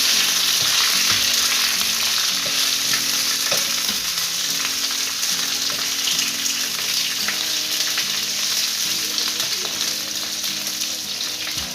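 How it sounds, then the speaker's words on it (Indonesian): Lime leaves, lemongrass and ginger sautéing in a pan for fish soup, a steady loud sizzle and crackle with faint stirring, alone and without talk. "Masukkan daun jeruk, sereh, jahe, tumis sampai harum."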